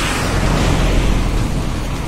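A river used for rafting near Pokhara, Nepal, rushes past in a loud, continuous roar of water, steady and close with no breaks and no voices.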